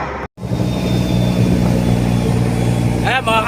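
A bangka boat's engine runs in a steady, close, loud drone with a deep rumbling low end, after a brief cutout near the start.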